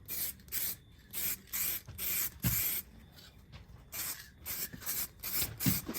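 An aerosol can lays a coat of spray onto a restored car headlight in rapid short bursts. The hissing puffs come in a steady rhythm at moderate volume, with no voices.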